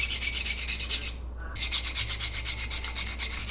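A ribbed swimbait being sanded, giving a steady harsh rubbing and scraping rasp that keeps going with a brief pause partway through, close and fairly loud, with no talking.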